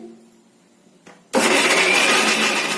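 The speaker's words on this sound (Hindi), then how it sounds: "आइए अब हम इसे पीसते हैं इस तरह से।" A kitchen blender grinds tomatoes and coriander into chutney, starting abruptly after a short quiet lead-in with a faint click, then roaring loud and steady to the end.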